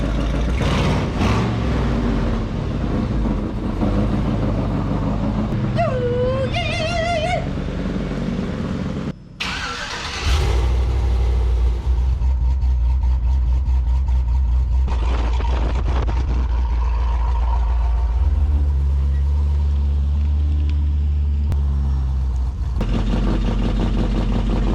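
A 1968 International Harvester Travelall engine with a blown-out muffler cranks, catches and settles into a loud, rough, rumbling idle close by. A few revs break the idle and there is no talk.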